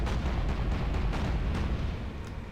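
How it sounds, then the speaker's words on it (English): Deep, rumbling booms of torpedo hits exploding against warships in the Battlestations Pacific naval game, a continuous heavy low roar with sharp bursts layered over it and no talking. "It looks like we are getting maybe a couple torpedo hits."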